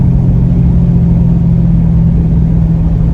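Dodge Charger Scat Pack V8 engine rumbling loud and steady during downshifts, a deep continuous growl with revving character throughout, no talk.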